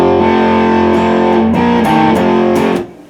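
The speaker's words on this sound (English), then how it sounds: "Like going through a distortion pedal." Gritty, overdriven guitar chords blare loudly from a faulty Fender Pro Junior amplifier with a low output problem, several changing strums with a fuzzy buzzing edge, fading at the end.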